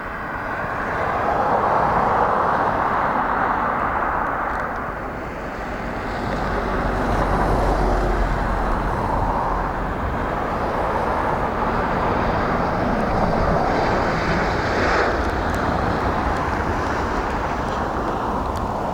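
Ryanair Boeing airliner landing in high wind at Dublin after a flight from Luxembourg: a steady, loud roar of jet engines mixed with heavy wind buffeting on the microphone, swelling and easing throughout with no voices.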